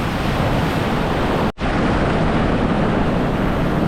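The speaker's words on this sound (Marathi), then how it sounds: "परत एक आली मोठी लाट खतरनाक" Large, dangerous sea waves crash continuously at close range on a rough coast where fishing is underway, a loud steady roar of surf and wind with a brief cut near the middle.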